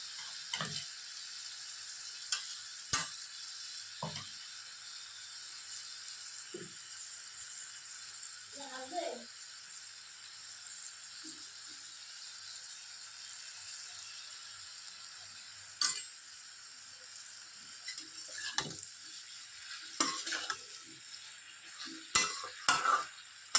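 Nearly cooked vegetables with mustard paste being stirred in a pan, a faint steady sizzle behind scattered spoon scrapes and clinks, with a few brief sounds like a voice in the background.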